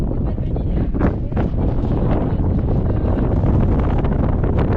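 A strong gust of wind buffets the microphone outdoors in the desert, a steady loud roaring rush that fills the whole stretch with rustling turbulence.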